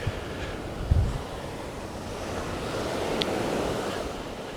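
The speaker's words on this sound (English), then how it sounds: "You see the waves are pretty big." Big ocean waves breaking on a beach at Cayo Santa Maria, Cuba, a continuous loud surf roar with wind buffeting the microphone and a brief thump near the start.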